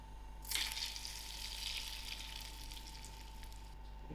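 Hot mustard seed tempering is poured onto brinjal choka and bursts into a sudden loud sizzle that settles into a steady hiss, with a low hum in the background.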